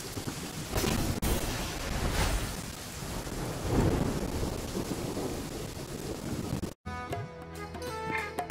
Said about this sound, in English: The thunder drowns out all other sound.